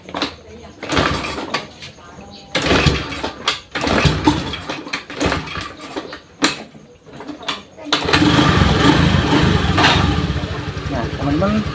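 A Honda Beat FI motorcycle engine cranks and starts with a burst of noise, then settles into a loud, steady idle; someone speaks over the earlier part.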